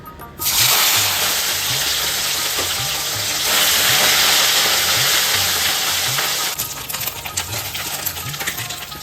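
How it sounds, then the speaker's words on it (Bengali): Small morola fish frying hard in hot oil, a loud, close, continuous hiss and crackle that swells and then eases slightly, with faint rhythmic clicks underneath throughout. "প্রথমে মাছগুলো কড়া করে ভেজে নিচ্ছি"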